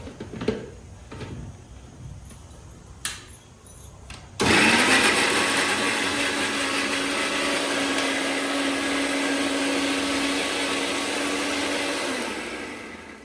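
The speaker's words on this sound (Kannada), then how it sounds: "ಮಿಕ್ಸಿಗೆ ಹಾಕೋದು ಇವಾಗ." A kitchen mixer grinder whirs loudly and steadily as it blends pav bhaji ingredients, starting abruptly after a few soft knocks and clicks and running continuously before winding down at the end.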